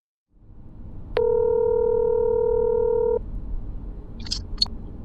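A telephone dial tone sounds as a call is being placed, a steady pure tone lasting about two seconds, followed by a few short faint chirps against light background hiss.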